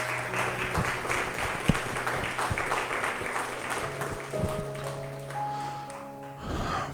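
A church congregation claps for the Lord in a steady, dense wash of applause that fills the room without pause, with a few sharper claps standing out near the front.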